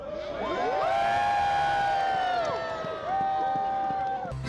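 A crowd at a Groundhog Day prognostication in Woodstock, with the groundhog Woodstock Willie, cheers and whoops loudly and continuously, with a short dip before the rising voices swell again.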